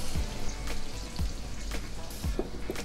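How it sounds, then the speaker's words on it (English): Aubergine sizzling and crackling steadily in a hot pan, with a few soft clicks and pops, close and fairly quiet, no voices. "Can you hear that still sizzling there?"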